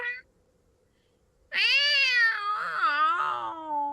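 A person imitates a cat's meow out on a nighttime street, a long wavering yowl followed by a couple of shorter mewling calls, loud and close, after a brief quiet pause.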